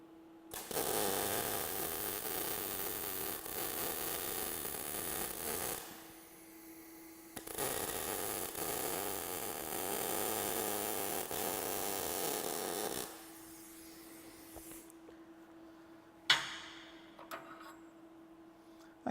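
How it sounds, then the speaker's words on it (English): A welding arc runs a bead around a component for a LAV chassis, producing two long, steady crackling bursts over a constant electrical hum, with a quieter pause between them and brief handling noises at the end. "we'll just go through and put a weld right around that"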